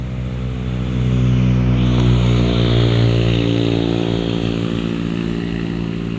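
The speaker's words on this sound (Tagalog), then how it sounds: "Madami pong nadaan pong mga motor po at mga riders po" Motorcycles passing close by on a road, their engines droning loud and steady, swelling as they go past and then fading slightly, with no talking.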